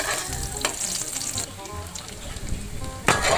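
Garlic, onion and chili sizzle and fry in a pan for kare-kare, a steady close crackle with a few louder bursts as ingredients hit the oil.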